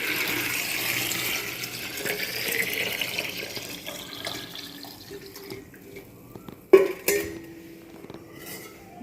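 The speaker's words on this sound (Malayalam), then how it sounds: "ഞാനിപ്പോൾ ഇതിനകത്ത് വെള്ളമൊഴിച്ച് അതുപോലെ അടച്ച് വെക്കാൻ പോവാണ്" Water is poured into a container while preparing an organic fertilizer for flowering plants, a soft steady splashing and trickling that fades, followed by a sharp clunk of the container being handled.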